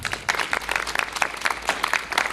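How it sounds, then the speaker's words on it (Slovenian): Audience applause at a literary festival in Brežice, a steady patter of many hands clapping, moderately close and fairly even in rhythm, with no talk over it. "aplavz je res na mestu"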